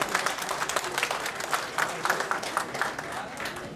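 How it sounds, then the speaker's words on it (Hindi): Dense applause from a sizable audience at a PTI political convention in Jhelum, continuous and moderately loud, with voices faintly mixed in. "आप साहब की भरपूर तालियों में मीडिया के डायरेक्टर आसिफ साहब"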